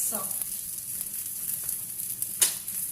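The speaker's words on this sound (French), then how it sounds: "Mes haricots, donc là, c'est en train de chauffer" Green beans heat in a pan with a steady, close sizzle and frying hiss, plus a brief stir or clink near the end.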